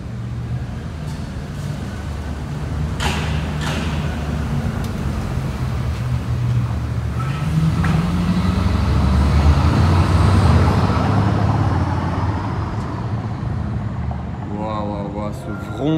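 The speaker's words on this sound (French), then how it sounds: "Ce vrombissement, ça fait trembler les murs vraiment." A Bugatti Veyron on French plates rumbles past in the street, its deep engine roar swelling through the middle and fading, mixed with traffic noise and brief voices.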